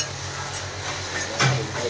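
Spices frying in hot oil with turmeric and salt, stirred in a pan; a steady soft sizzle runs throughout with a brief louder scrape of stirring near the end.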